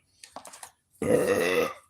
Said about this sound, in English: If I have to burp, I will burp.